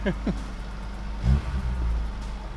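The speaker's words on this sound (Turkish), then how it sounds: "Tabii arabayı biraz zor olsa da çalıştırdık" A BMW E30 316 starts after a jump-start with cables: a low engine rumble surges up in a brief rev, then settles into a steady idle.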